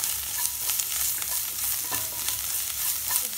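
Spice masala with fennel powder being stir-fried in a pan, a brief close sizzle broken by repeated scraping strokes of a spoon.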